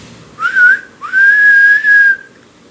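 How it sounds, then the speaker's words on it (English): A steam engine whistle from Thomas the Tank Engine, for Henry, sounds in one short toot followed by a long sustained blast, clear and loud against a quiet background. "Henry's whistle."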